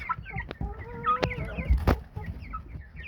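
Chickens cluck close by in a yard, with several overlapping calls and a few sharp louder squawks standing out from the steady chatter.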